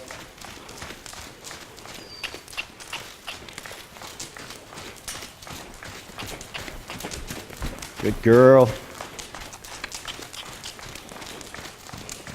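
A horse moves around a lunge line in a Western saddle, its hoofbeats a steady muffled thud of footfalls running beneath near, continuous spoken coaching from the handler.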